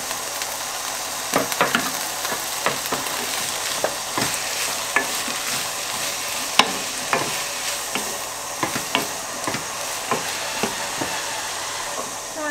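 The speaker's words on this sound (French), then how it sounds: "Et l'oignon. Et on va faire dorer tout ça." Onion and a little chili pepper fry together in a pan for a chicken and pepper stew, a steady close sizzle punctuated by regular stirring scrapes and taps throughout, with no voices.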